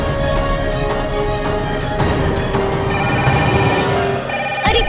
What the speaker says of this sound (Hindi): ये तो तुम होटल का फोन है, बजने दो।